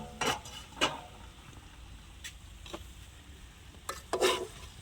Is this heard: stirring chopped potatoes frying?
yes